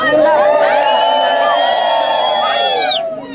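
Wedding guests ululate together in a loud, sustained, high trilling chorus that holds steady for about three seconds before trailing off, with crowd cheering mixed in.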